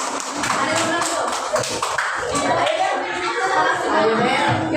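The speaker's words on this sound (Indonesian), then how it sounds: "Tepuk tangan dulu, beri semangat untuk Adel." Classroom applause for a pupil named Adel, a few seconds of brisk clapping from many children, mixed with voices and chatter throughout.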